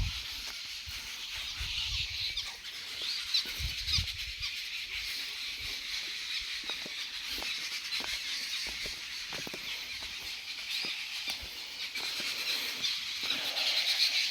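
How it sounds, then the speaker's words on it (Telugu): A dense, steady chorus of birds calling and chirping from all around at a temple ashram, continuing without a break and with no talking. "పక్షులు అవి సౌండ్లు"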